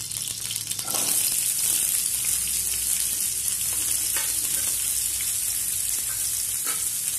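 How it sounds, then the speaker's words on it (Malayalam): Ivy gourd and green chillies hitting hot oil, a dense, loud, even sizzle that holds steady throughout with a few faint scrapes of a spoon, close and without any voices. "ഈ എണ്ണ ചൂടാവുമ്പോൾ നമുക്ക് എടുത്തു വെച്ചിരിക്കുന്ന കോവയ്ക്കായും അതുപോലെ പച്ചമുളകും കൂടെ ഇതിനകത്തോട്ട് ഇട്ടു കൊടുക്കാം"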